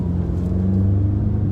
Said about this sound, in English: Some of my friends have thought that it's a special aftermarket exhaust, and in fact it's just a factory option to remove the resonator